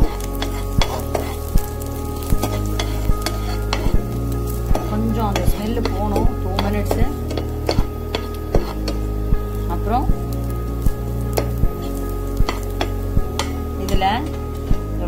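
Chopped ginger and garlic fry in hot oil with a constant sizzle, while a utensil taps and scrapes the pan in regular strokes, heard close over steady background music.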